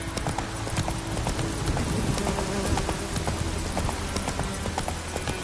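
Roach, a horse in The Witcher 3, gallops steadily with rhythmic clip-clop hoofbeats that stay close and even throughout.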